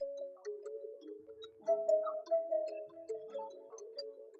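A dark trap-style bell melody, pitched down an octave and processed with effects, plays alone as sustained chiming notes that shift through a slow, eerie line.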